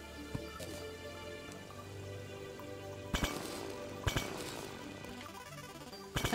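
Rain falls in the video game Terraria as a steady soft patter over quiet game music, broken by a few brighter clinking drop hits.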